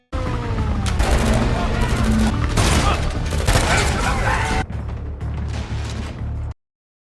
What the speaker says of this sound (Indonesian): Tiba-tiba terdengar suara tembakan dari dalam pabrik